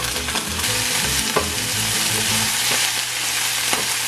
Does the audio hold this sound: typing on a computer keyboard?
no